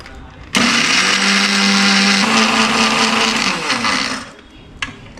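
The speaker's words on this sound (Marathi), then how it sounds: "आता थोडासा आपण घेतलेला आहे चुरा आणि तो मिक्सरला लावला" A mixer grinder whirs loudly at high speed for several seconds grinding semolina crumbs, its pitch dropping slightly partway through, then winds down and stops.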